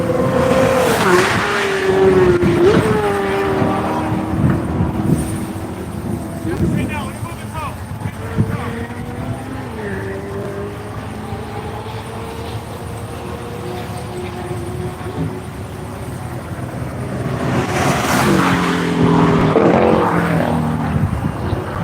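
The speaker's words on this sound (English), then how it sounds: "Comes the Michelin Corvette." A loud race car engine roars past, pitch sliding as it goes by, then another engine rises toward the end.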